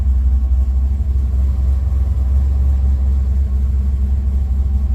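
A car engine running with a loud, deep steady rumble close by, the idle holding even as the throttle is lightly touched.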